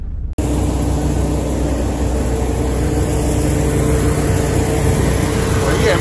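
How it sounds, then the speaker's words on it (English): A loud truck engine runs nearby at a truck stop, a heavy, steady low rumble with a constant drone that starts abruptly and holds unbroken throughout. "No, that's his truck. This shit loud as hell."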